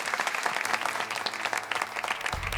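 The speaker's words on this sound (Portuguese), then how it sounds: "Uma salva de palmas para a Madalena" An audience applauds a guest named Madalena, many hands clapping in a lively, close burst that holds steady for a couple of seconds.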